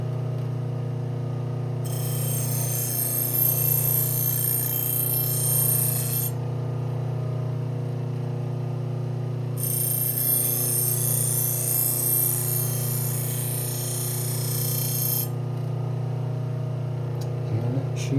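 A chef's knife is drawn along a sharpener in two long, even strokes, each a bright, sustained grinding hiss over a steady low motor hum.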